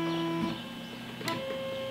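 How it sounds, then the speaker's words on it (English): A 3D printer plays a short series of electronic beeps and tones to signal a finished print, close and clear against a faint mechanical hum. "That's the sound of the print being done."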